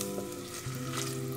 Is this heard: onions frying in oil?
yes